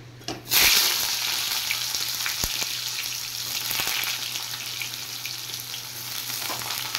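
Cut mango dropped into a hot pan with oil and panch phoron for tok dal, a loud sudden sizzle that settles into steady frying hiss, with a couple of faint clinks and no talk.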